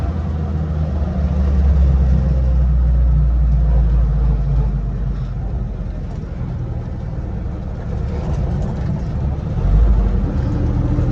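An M38A1 Jeep engine fitted with an SU carburetor runs steadily at close range, a loud, constant low rumble that swells slightly partway through.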